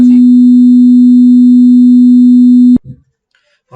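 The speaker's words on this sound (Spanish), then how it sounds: "En principio con fase 0 suena así." Synthesized pure sine tone at zero phase, a steady loud single pitch held for nearly three seconds then cut off abruptly, followed by brief faint noise.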